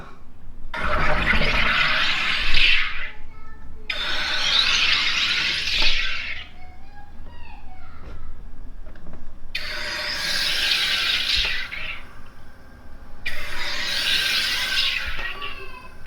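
A SodaStream Jet soda maker carbonates water in four loud hissing bursts, each about two seconds long with brief pauses between, harsh gas rushing and gurgling close up.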